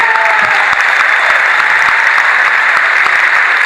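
A hall full of people claps loudly and continuously during a speech at an RCM Next Generation event, a brief, close burst of dense applause.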